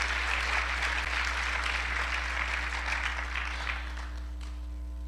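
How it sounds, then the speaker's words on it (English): Audience applause during a testimonial talk about Hurricane Maria in Puerto Rico, a broad wash of clapping over a steady electrical hum that gradually tapers off toward the end. "You can clap."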